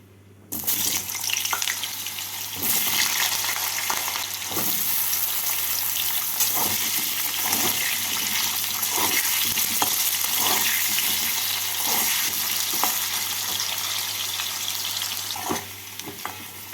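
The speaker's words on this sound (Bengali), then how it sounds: "এর মধ্যে আলু কুমড়ো আর বেগুন ভেজে তুলে নেবো" Chunks of potato, pumpkin and eggplant fry in hot oil seasoned with a little salt, producing a loud, steady sizzle and crackle throughout with occasional clinks and stirring knocks.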